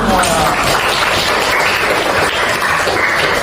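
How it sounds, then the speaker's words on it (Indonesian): Students applaud together in a classroom at the end of a lesson, making a loud, continuous, hissing roar of close clapping that stays steady from start to finish. "jadi saya tepuk tangan dulu semua"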